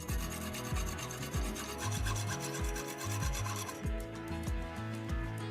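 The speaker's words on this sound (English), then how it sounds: "Part of the fitting needs to be cut off." A hand tool rasps back and forth through a plastic hose fitting in steady, rhythmic strokes, loud and close, with no voices.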